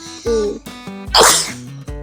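A single loud sneeze bursts out mid-clip amid the sounds of a Steal a Brainrot video game, with tonal game music and effects playing before and after it.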